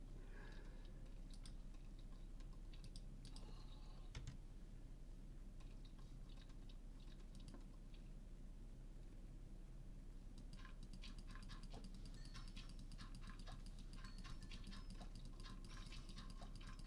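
Rapid, steady clicking from sieving in the video game Minecraft, a quiet stream of light taps and ticks continuing throughout over a faint low background hum.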